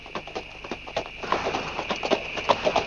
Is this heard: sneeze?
no